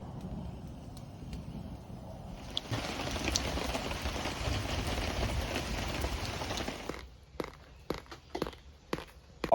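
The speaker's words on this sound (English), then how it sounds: "It's been raining for all night, and it's been also thundering." Steady rain falls outside a wooden cabin during a stormy night, a dense broadband patter that swells and holds, then gives way to a few separate knocks and thuds near the end.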